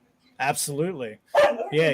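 A dog's barks and yips break in over a person talking close to the mic, with two short bursts of sound separated by a brief gap.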